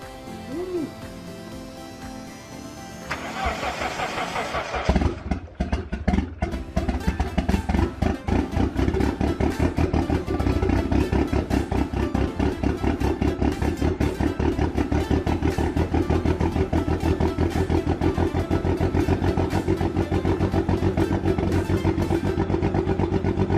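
A newly built Mitsubishi Eclipse 2G engine runs too rich. It starts up and settles into a loud, lumpy, uneven idle with rapid clattering pulses that keep going steadily, and a voice is briefly heard.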